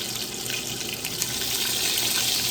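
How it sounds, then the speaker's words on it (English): Hot water pours steadily into a pan while Jamaican oxtail is being cooked for a slow cooker, giving a continuous close splashing rush with no talking. "Gonna add some hot water to it and put it here so we can get all this goodness to go into the slow cooker."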